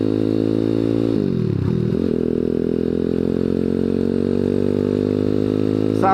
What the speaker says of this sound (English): Today we're on the Grom clone with the